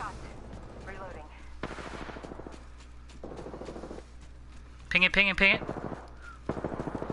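Rapid automatic gunfire bursts in the video game Apex Legends, several short volleys at moderate volume, with a player talking between and over the shots.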